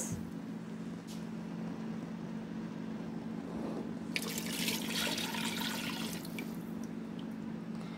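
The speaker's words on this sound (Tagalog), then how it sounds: "ito po yung ating liquid milk. Lalagay natin sa ating tinunaw na harina at butter." Liquid milk poured into a pan of melted flour and butter for béchamel sauce, a steady soft pouring and splashing sound, louder in the middle, with no voices.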